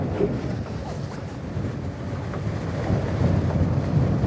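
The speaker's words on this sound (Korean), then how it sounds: "너울이 어마어마합니다" Heavy ocean swell and waves wash around a boat at sea during winter big-game fishing, a continuous low rumbling surge with wind buffeting the microphone and no speech.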